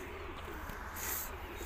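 A single sluggish, unwell domestic pigeon gives a soft, low coo, faint and brief against a quiet background.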